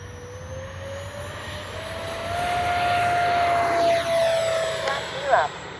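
A Freewing 70mm F9F-5 Panther RC jet flies overhead with a steady, slowly rising turbine whine over a broad rushing roar, fairly loud and close.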